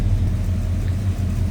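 A 1968 Oldsmobile Cutlass S convertible with a 350 V8 and Flowmaster exhaust idles in a steady, loping, deep rumble, close and loud, with no talk over it.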